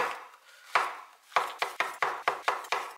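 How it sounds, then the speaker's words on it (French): A knife cuts large shiitake mushrooms into thin strips on a board, with about eight crisp chops that start sparse and then fall into a quick, steady rhythm, close and clear. "Je vais tout simplement les couper en lamelles."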